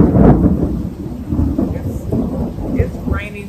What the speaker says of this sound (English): It's raining so pretty,